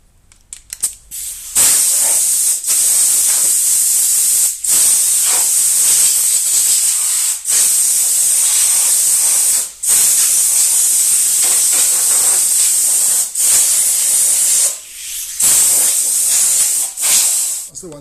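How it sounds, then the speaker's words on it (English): A spray can lays primer onto restored lawn mower parts in loud hissing bursts, several long sprays broken by short pauses, close up. "get a nice big juicy coat of primer on it"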